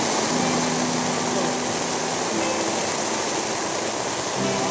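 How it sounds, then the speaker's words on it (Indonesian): Volcanic ash falling like rain at night just after an eruption makes a steady, dense hiss that stays loud and even throughout, with a faint low hum underneath and no voices. "Gunung baru saja meletus. Malam ini hujan abu."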